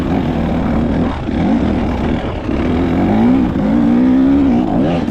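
A 2024 KTM hard enduro motorcycle lugs up a steep shale hill at low RPM with a steady, loud, close engine drone and slight pitch wavers as the throttle is eased on and off.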